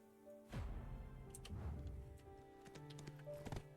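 Horse hooves clip-clop in Black Desert Online, a steady rhythmic trot close by, with game music and ambient effects layered underneath and no talking.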